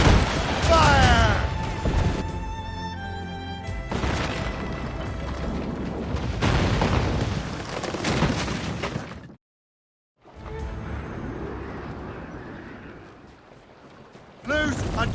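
Ship cannon fire in Assassin's Creed Rogue, heavy booming broadsides and crashing impacts over a busy naval battle din, with shouted voices in the mix and a brief total silence partway through.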